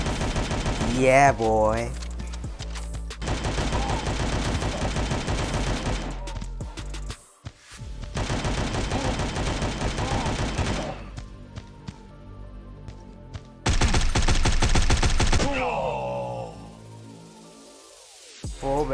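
FireFly assault rifle fire in the Guns of Boom shooter game comes as several long, loud automatic bursts separated by short pauses. A player's voice briefly cheers between them.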